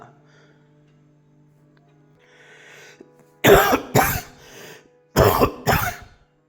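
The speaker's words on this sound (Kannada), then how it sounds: "ಇದು ಕೆಮ್ಮು ಅಂದರೆ ತುಂಬ ಒಣ ಕೆಮ್ಮು ಅಂತಲ್ಲ, ತುಂಬ ಕಫದ ಕೆಮ್ಮು" Four loud, wet coughs in two close pairs, sounding phlegmy and chesty, after a quiet, faintly humming stretch.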